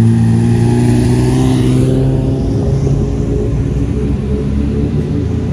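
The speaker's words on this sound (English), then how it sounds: "And here come the GT3, the 2RS, Huracan," A Porsche GT3, a Lamborghini Huracan and an Aventador drive past together during Monterey Car Week. A loud, close mix of deep engine rumble and revving rises and shifts as the cars pass, continuous and without pause.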